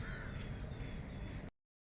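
After rain, birds call outside, crows cawing in repeated short bursts over a soft steady background that cuts off abruptly at the end, fairly faint, with no voices.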